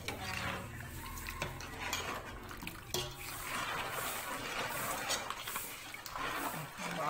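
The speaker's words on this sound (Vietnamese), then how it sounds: "Quậy cho nó tan ra hả mẹ?" Spoon clinks and scrapes steadily against a bowl while a cocoa mixture for baked banana cake is stirred to dissolve, a busy close clatter with faint running water in the background.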